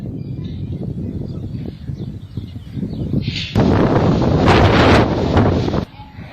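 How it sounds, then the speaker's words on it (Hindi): Sandstorm wind in Bikaner, Rajasthan roars loudly, building from a rough gusty rush into a strong, steady blast that dominates, with brief voices underneath at first. "तूफान राजस्थान से हरियाणा की तरफ बढ़ रहा है और आप हवा की आवाज सुनिए।"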